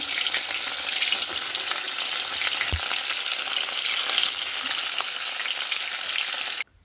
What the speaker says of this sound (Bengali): মাছগুলো ছেড়ে দিচ্ছি, তেল গরম হয়ে গেছে